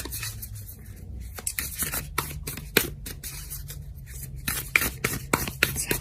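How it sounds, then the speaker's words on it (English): Tarot cards are shuffled by hand in quick, irregular bursts of crisp riffling and sliding, close and fairly quiet, with short gaps between handfuls. "let's give the cards a good shuffle"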